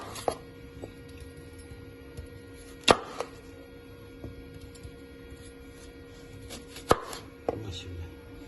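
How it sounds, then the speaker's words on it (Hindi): A knife cuts through green apples, making a few sharp, isolated chops spaced seconds apart over a faint steady background hum. "ये मैंने हरे सेब ले लिए, इसको हमने इसकी कटिंग कर लेनी है।"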